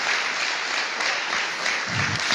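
Sustained, dense applause from a church congregation, a steady wash of many hands clapping together close by, with no talk over it.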